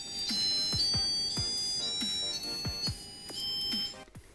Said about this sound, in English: In here is Edison's speaker, which can beep or play notes.